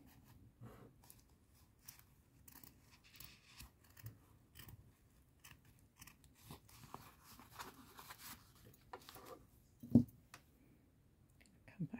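Small sharp scissors snip around a stitched fabric circle, a string of quiet close clicks and cuts with one louder snip near the end.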